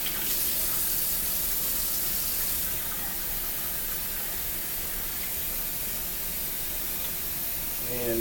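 Cold water running from a tap in a steady hiss, louder at first and then settling into a continuous even spray.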